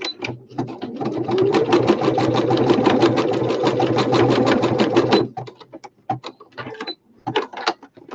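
A sewing machine runs a zigzag stitch on a fabric sewing machine cover: a fast, even, rhythmic clatter for about five seconds, then scattered short clicks and taps as the machine stops.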